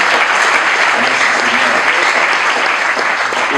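A congregation applauds at a church gathering, steady dense clapping that fills the whole stretch at close range, loud and even with no pauses.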